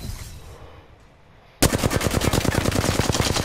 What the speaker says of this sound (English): I'm going to use all my bullets for the flat line